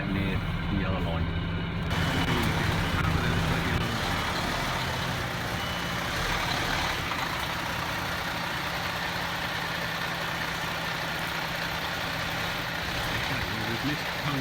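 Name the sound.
category C+E truck reversing with reversing beeps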